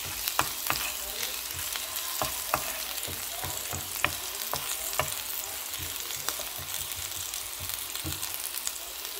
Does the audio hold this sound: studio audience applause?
no